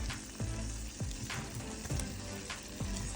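Sautéed vegetables go into a simmering pan of mushrooms for a vegan taco salad, giving a continuous close sizzle with a few soft thumps and scrapes as they are tipped in and stirred.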